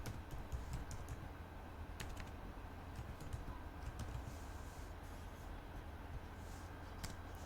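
Python code being typed on a computer keyboard, heard as sparse, light key clicks, some in quick clusters, over a steady low background hum.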